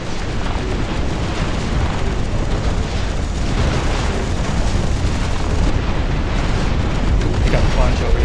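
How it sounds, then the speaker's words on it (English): Artillery shells burst over and over in the RTS game Dust Front, a dense rumbling barrage of booms that is loud and continuous, with a voice talking over it. "The artillery's hitting these guys with speed."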